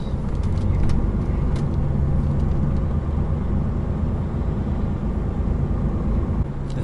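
Cars sit in slow, stalled traffic on the M25 motorway at roadworks, a steady low rumble of idling engines and road noise heard from inside a vehicle, with faint bird calls above.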